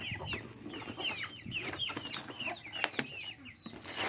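Brahma chickens clucking close by, a busy overlapping stream of soft clucks and chirps running throughout with a couple of sharper knocks.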